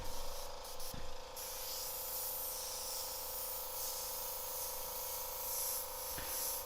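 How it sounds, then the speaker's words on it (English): Badger Omni 3000 airbrush spraying Createx paint at about 50 psi for a t-shirt graffiti design, giving a steady close hiss that runs throughout with brief interruptions near the start. "I'm using the Badger Omni 3000 airbrush today, painting with Createx paints and painting at about 50 psi."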